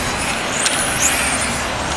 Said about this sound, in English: That's your blue and green car going through the infield.